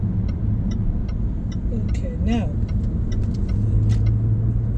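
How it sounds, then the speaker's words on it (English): Car merging onto a UK motorway, heard from inside as a steady engine and road drone with a brief rising whine midway, while a person speaks briefly over it. "We're entering the motorway."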